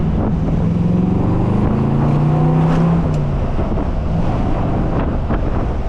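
A 1962 Chevrolet Corvette C1 with a 350 engine and a Hurst 4-speed cruises along the coast, its engine droning loud and steady under heavy wind rush, with a pitch drop as it shifts into second.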